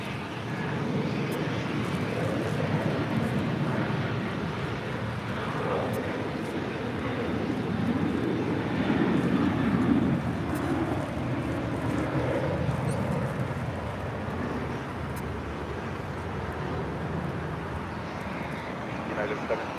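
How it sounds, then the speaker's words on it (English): An Eva Air Cargo Boeing 777 at LAX gives off a steady, broad jet roar that swells slightly midway and holds for the full stretch, with voices talking over it. "this is Eva Air Cargo Flight 609 heading back to Taipei on this 777"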